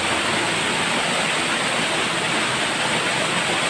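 Rushing water at Wawa Waterfall in Rodriguez, Rizal makes a steady, loud, dense roar that holds evenly throughout, with no voices.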